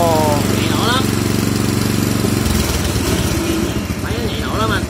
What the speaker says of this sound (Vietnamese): Nghe tiếng máy nó đều như vậy là quá ngon luôn rồi đó